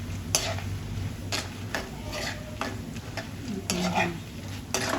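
Peanuts fry in a pan over a low gas flame for tamarind rice, with a spoon scraping and stirring in repeated strokes over a soft, steady sizzle.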